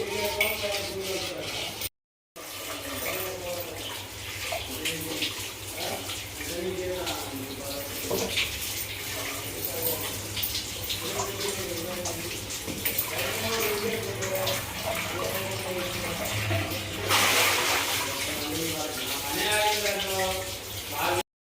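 Clay cooking pots are scrubbed hard under running water, a steady wash of splashing and rubbing with occasional clinks of pottery, while a voice talks over much of it.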